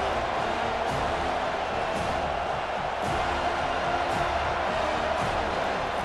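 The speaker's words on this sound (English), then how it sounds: "Big third down as the crowd gets behind this defense" A steady, dense stadium roar from the College Football 25 crowd at a Boston College versus Florida State game fills the whole stretch without letting up.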